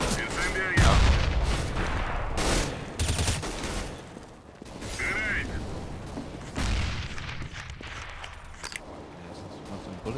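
Bursts of gunfire and explosive booms in CS:GO, several sharp shots and heavy impacts scattered across the stretch amid ongoing game noise, with a voice speaking intermittently.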